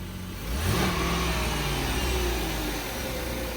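A car engine revs up, holds at a raised pitch, then eases back toward a steady idle, close by and fairly loud.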